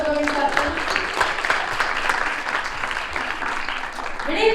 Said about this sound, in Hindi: ताली मारो सबको मेरे साथ